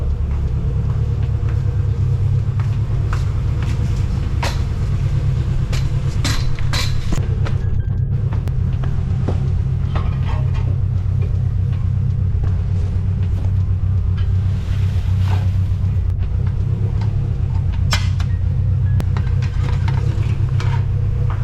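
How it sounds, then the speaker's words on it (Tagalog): A Subaru WRX project car engine idling after a long warm-up, a loud steady low rumble with faint ticks and clatters scattered over it, continuous and close, no one speaking. "Lumipas na ang I think 15 minutes na naka-idle yung ating WRX."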